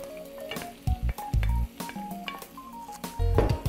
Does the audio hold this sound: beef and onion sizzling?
yes